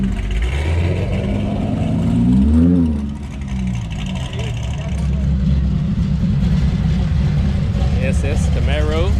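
Chevrolet SS Camaro V8 engine revving and pulling past at an outdoor cars-and-coffee meet in Houston, Texas, a steady rumble rising in a rev near the middle amid crowd chatter.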